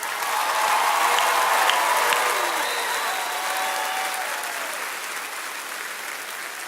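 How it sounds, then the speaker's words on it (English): A large audience at The Apprentice School's 2017 graduation applauds the graduates. The clapping swells to a loud, full roar, then slowly thins and fades. "How about another round of applause for the graduates?"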